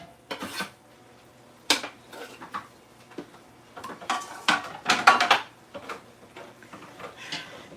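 Garlic being stirred in a cooking pot, with a utensil scraping and clinking against the metal in irregular bursts at close range and no talk over it.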